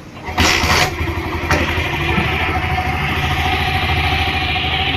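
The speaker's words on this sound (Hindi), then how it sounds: "ये देखें बाइक स्टार्ट हो गए" A 70cc motorcycle engine cranks and fires up, then settles into a steady, close, slow throbbing idle.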